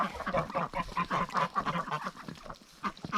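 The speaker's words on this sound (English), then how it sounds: "we still have 4 ducks in need of a drake" Several farmstead ducks quack in a busy, overlapping chorus of short calls, close and fairly loud, with some honking from nearby geese mixed in.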